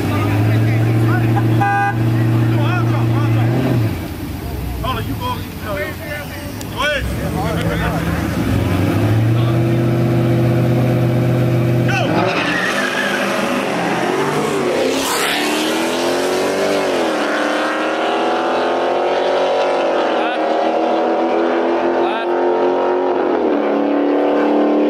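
Roll race between a Camaro SS, a 10-speed Mustang and a BMW M4: loud engines rev and roar up close, climbing through gears as the cars pull away. A horn-like tone sounds early, and voices shout over the noise.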